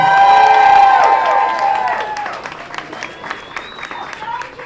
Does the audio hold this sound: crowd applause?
yes